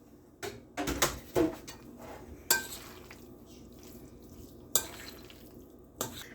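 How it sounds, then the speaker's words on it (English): Cooled, drained potatoes being stirred into potato salad dressing in a bowl: soft wet squelches with several distinct knocks of a spoon against the dish, quiet and near, with no talking. "take your drained, cooled potatoes and add them in"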